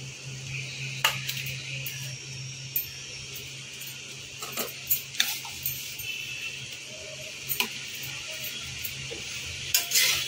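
Vegetable fried rice, Bengali style, is stirred and tossed in a pan, with scattered sharp metallic clinks and taps of a spatula against the pan over a quiet, steady background hum.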